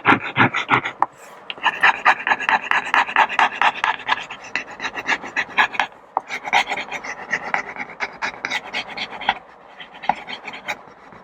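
Printer paper is rubbed by hand to transfer a design, making a close, rhythmic, raspy scraping in rapid strokes with brief pauses, loud and without voices.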